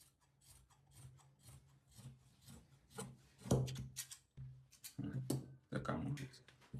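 Scissors cutting fabric for a kaftan, a series of rasping snips and rubbing strokes close up, with quiet talk in the background.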